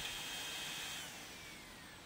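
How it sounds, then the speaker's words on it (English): Power drill spinning at slow speed on a damaged windscreen during a glass chip repair, giving a close, steady whirring whine that eases slightly partway through. "The drill is switched on and set to a slow speed."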